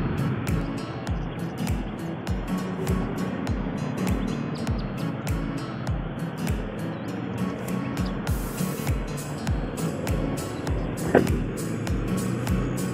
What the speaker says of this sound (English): Traffic in Manila.